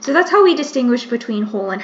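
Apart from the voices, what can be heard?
No everyday noise stands out behind the speech.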